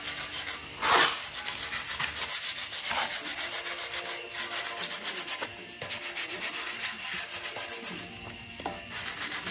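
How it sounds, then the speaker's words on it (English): Fresh patina paint is rubbed off a hand-hammered snare drum shell in continuous back-and-forth strokes, a close, rasping, sanding-like scrub that keeps a steady rhythm throughout. "I'm gonna start rubbing it off with this thing"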